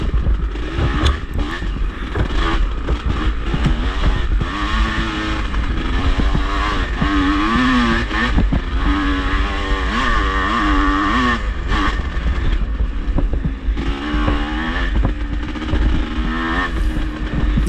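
A vintage racing motorcycle thought to be running slightly lean roars around a race track at a vintage club event, its loud engine rising and falling through repeated gear changes and throttle surges for the whole stretch.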